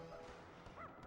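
A brief, faint yip from a small dog-like creature in the action-adventure game Sphinx and the Cursed Mummy, a short high bark set against low ambient game sound.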